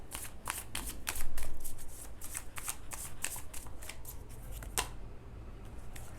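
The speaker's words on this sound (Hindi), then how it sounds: "कुछ और ये कार्ड्स लेते हैं" Tarot cards are shuffled close up, a steady run of crisp riffling bursts with one louder flurry early on and a quieter pause near the end.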